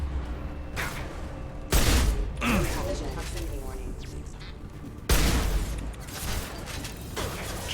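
Heavy gunfire in the Mass Effect 2 video game: bursts of shots and booming impacts crowd a dense battle mix, with two sharp loud blasts standing out amid mechanical clatter and voices talking.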